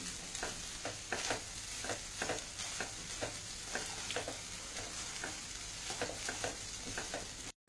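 Mint rice with salt is stirred and mixed in a pan on the stove, with steady rhythmic scrapes and soft sizzling running throughout at a moderate, even level.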